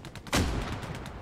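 A loud burst of gunfire from the World War II shooter Hell Let Loose, with one sharp close shot followed by a rolling, sustained crackle of distant battlefield firing.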